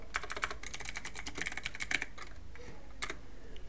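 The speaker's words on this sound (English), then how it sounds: "type ipconfig slash flash dns, and then type here netch winsock reset" Typing on a computer keyboard in quick bursts of close, crisp key clicks, with a short pause before a final flurry, no talk over it.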